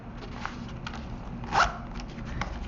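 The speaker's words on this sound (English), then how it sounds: "Then we can zip things up" A zipper is pulled closed on a compact pen and watercolor kit, giving one quick, fairly close zip burst with a few faint rustles and handling clicks before and after.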